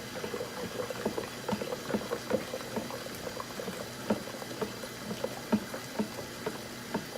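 Cold water running into a container while a spoon stirs it in a home kitchen. A steady bubbling, splashing flow with small clinks and taps scattered throughout, fairly close and moderate in level.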